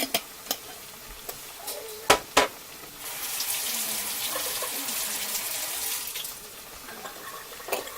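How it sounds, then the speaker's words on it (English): Water sloshing inside a spaghetti sauce jar while it is shaken to rinse out the last of the Del Grosso sauce. A few sharp knocks come first, then a steady wet rattle that lasts several seconds. No one speaks. "give it a good shake to get all that sauce out of the jar"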